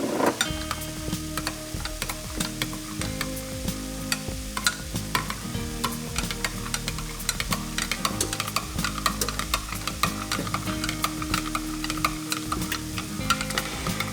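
Sloppy joe tater tot casserole mixture being stirred in a bowl, with steady, busy scraping and thudding strokes that continue without a break, no talking.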